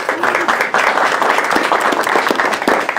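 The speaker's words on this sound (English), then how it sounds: "You want to give him a round of applause?" Audience applause at a school board meeting, a dense steady patter of many hands clapping close by for about three seconds, with a faint voice slipping in underneath.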